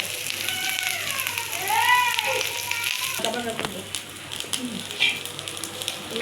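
Small fish fry with onion in a pan, a bright sizzle and spatter running underneath a person talking throughout.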